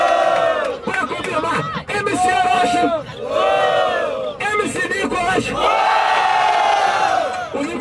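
A large audience at the final of the Batalha do Tanque freestyle rap battle roars and shouts continuously in surging waves, loud and close, with voices yelling over the sustained cheering.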